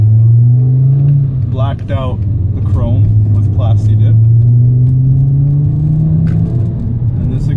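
A Mk5 Jetta exhaust with a resonator delete drones in a steady low hum as the engine holds and slowly rises in pitch, loud and close, with someone talking over it.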